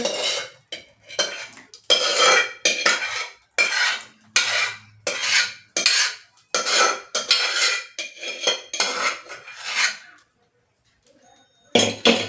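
A spoon scrapes and clinks against a metal pressure cooker as dal lentils are added, giving a close, loud run of rapid scraping and tapping bursts with short pauses and no talk.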